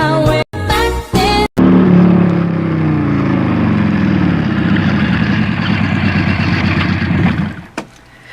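A motorcycle approaches, its engine rising to a loud, steady drone up close before cutting off and fading, with brief silent gaps at the start.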